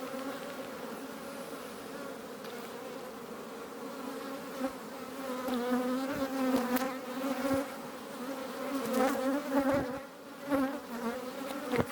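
A honeybee swarm forming in a tree fills the air with a steady, dense buzzing that swells and fades as bees fly close past, with no talk.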